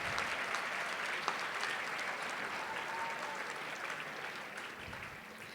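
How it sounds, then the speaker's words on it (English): An audience at a live academic decathlon quiz event applauds board members in a steady, dense round of clapping that holds at an even level throughout, with no voices over it. "A round of applause, please."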